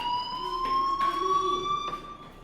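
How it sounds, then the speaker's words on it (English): A fire alarm in the Life is Strange video game rings with a steady, shrill electronic tone and a few brief bursts, loud and alone, without talk. "do you hear that fire alarm?"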